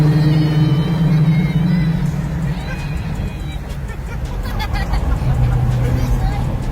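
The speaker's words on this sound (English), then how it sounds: "this car is loud. It's very loud. First official test drive." A loud car, rebuilt after burning out completely, drones steadily on its first test drive, heard from inside the cabin as a rumbling engine tone under people talking.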